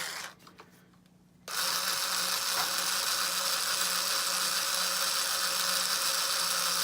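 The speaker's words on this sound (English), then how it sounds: "I'm going to use my trusty screwdriver and my string winder to remove the strings off of this guy." A string winder cranks a guitar string loose with a continuous whirring, ratcheting buzz that starts abruptly after a short quiet stretch with a few faint clicks, then runs steadily and close.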